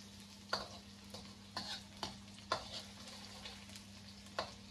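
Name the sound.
garlic sautéing in a pan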